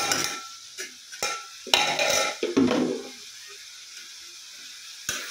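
A spoon scrapes and stirs curry with cumin paste in a pan, close up. There are several scraping strokes and clinks against the metal over a soft sizzle, then a quieter stretch with one last clink.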